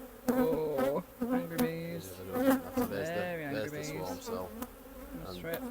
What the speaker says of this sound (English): Oh, angry bees. There's Very angry the bees.